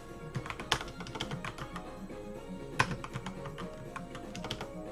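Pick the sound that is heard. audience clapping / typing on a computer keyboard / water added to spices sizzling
typing on a computer keyboard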